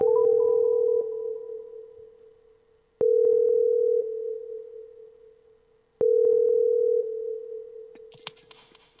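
Telephone ringback tone while a radio host calls a listener on air: a steady electronic tone repeating in three even bursts, about every three seconds, each starting loud and fading, with no talk.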